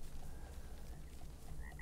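A frog croaks in the video game Ark Survival Evolved, with a steady run of low, rapid croaking pulses close by and no talk over it.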